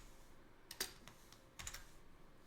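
Keys clack on a computer keyboard in short, irregular bursts of taps with brief pauses between, close and fairly quiet, with no voice heard over them.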